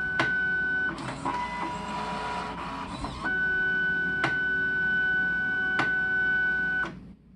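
A Fargo HDP5000 card printer runs through a print cycle, humming continuously with a steady high tone and sharp periodic clicks, then winds down at the end.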